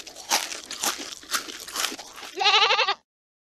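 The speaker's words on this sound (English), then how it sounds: "Goat." A goat gives one short, wavering bleat near the end, after a stretch of rough crunching and rustling noise.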